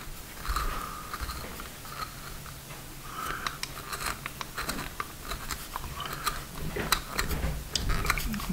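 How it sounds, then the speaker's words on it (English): A Bic Xtra Fun pencil is turned in a sharpener, producing close, quiet scraping and crisp crackling ticks of wood and lead being shaved in irregular bursts. "Let's try sharpening."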